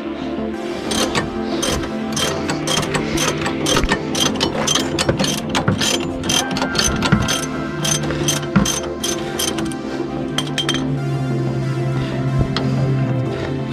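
Ratchet socket wrench turning to loosen a slightly rusted 18mm bolt on a Dodge Charger during a coilover install, with a steady run of close, loud pawl clicks repeating throughout.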